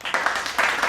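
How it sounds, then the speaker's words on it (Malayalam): A small group of cousins claps at home at night, a short burst of ragged, fairly loud clapping that stays steady for about a second. "കൈയടിച്ച് പാസ്സാക്ക്."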